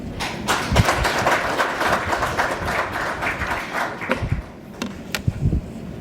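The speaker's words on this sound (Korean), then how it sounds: "박수로 먼저 해주십시오" Audience at a conference claps in a scattered, moderately loud burst with some sharp individual claps that thins out toward the end.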